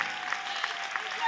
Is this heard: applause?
yes